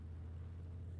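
Pickup truck reversing in Farming Simulator 22, a steady low engine drone that holds even and unbroken, with no other sounds over it.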